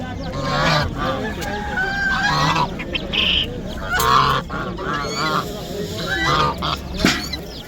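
Geese for sale at the Samarkand bird market honk close by in loud, overlapping bursts, set against a busy market din with faint voices in the background.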